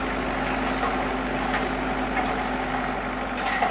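An excavator with a Fracken Model 100 engine running steadily, a continuous low idling rumble with a faint vibrating hum and no notable changes.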